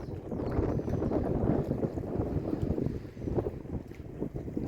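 Strong wind buffets the microphone at a carp fishing lake in winter, rumbling and gusting loudly in uneven surges close up, with no voices.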